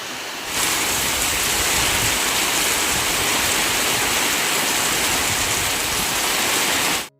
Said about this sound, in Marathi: मुसळधार पाऊस आला बघा